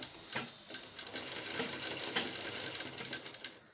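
Sewing machine stitching lace onto a kurti neckline, a quiet rapid mechanical chatter running in short continuous bursts, close up with no voices.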